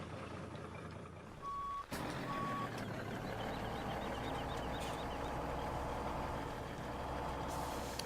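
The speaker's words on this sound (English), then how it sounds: "Let's see how this truck does with this trailer full of logs." A logging truck hauling a trailer full of logs in Farming Simulator 17 idles with a steady engine drone, a hiss of air brakes, then repeated reversing beeps.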